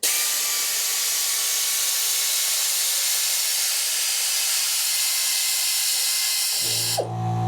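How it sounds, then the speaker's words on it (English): Continuous loud hissing rush of compressed air from an air ratchet fed by a VEVOR 8 gallon air compressor, steady throughout, cutting off near the end to a lower mechanical hum as the compressor kicks on. "let's plug in my air ratchet. See how it runs it."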